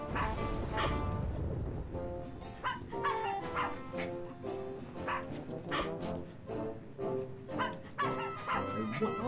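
Cartoon dogs in the Wallace & Gromit adventure game yip, bark and whimper in a busy run of short, overlapping calls alongside bright game music.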